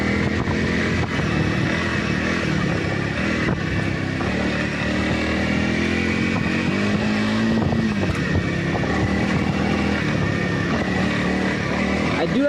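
Honda CRF300L motorcycle riding on a trail, its engine a steady continuous drone with wind noise throughout, close and moderately loud, with no one talking.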